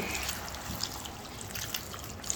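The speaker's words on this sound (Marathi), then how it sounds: "ह्याला शिजण्यापुरतंच भाज्या पाणी टाकते" Water trickles and splashes into a pan of sautéed mixed vegetables for a Bhogi curry, a soft, steady pour with small drips standing out, no voices over it.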